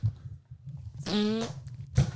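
A single drawn-out fart, a pitched buzzing tone lasting about half a second, sounds close by between low background noise and brief rustles.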